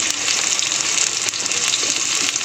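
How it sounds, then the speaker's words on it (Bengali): Sliced onion and potato frying together in a pan of hot oil give a steady, close, dense sizzle that crackles evenly throughout, with no voices. "পেঁয়াজটা ভেজে পেঁয়াজটার সঙ্গে আলুটা দিয়ে আমি ভেজে নেব"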